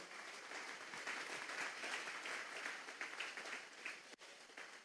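Steady congregational applause in a church service, a dense wash of clapping at moderate distance that stays even throughout with a brief dip near the end.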